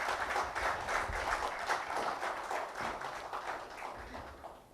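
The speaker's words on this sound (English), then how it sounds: "So please give him a big round of applause." An audience at a conference session on international relations applauds to welcome a speaker, a dense patter of clapping from many hands that slowly fades.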